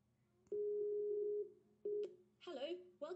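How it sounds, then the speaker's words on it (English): Skype call connecting tones sound in a quiet room: a steady electronic beep holds for about a second, then two shorter tones follow, and a recorded voice begins speaking near the end. "let's go ahead and make the phone call"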